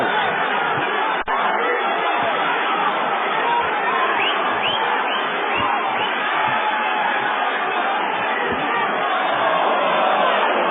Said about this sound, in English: Crowd reacting on every throw.